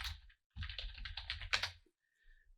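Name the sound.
typing a search query on a computer keyboard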